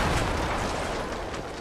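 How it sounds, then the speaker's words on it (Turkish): A bomb detonates in an armed Hunger Games style shooter, a loud broad blast with a rumbling tail that fades slightly over under two seconds. "biri bomba attı"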